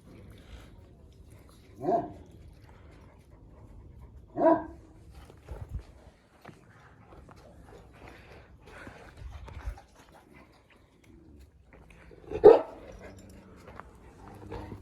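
Three separate dog barks spaced several seconds apart, moderately close, with quiet rustling and faint movement in between.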